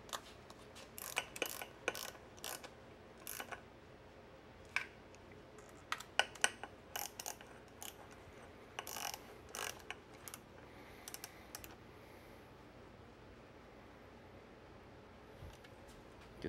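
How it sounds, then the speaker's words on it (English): A hand ratchet clicks in quick, irregular bursts while running down valve cover bolts on an engine, close and fairly quiet, with short pauses between the series of clicks. "We're just gonna put a ratchet on here and just run it down, just kinda snug."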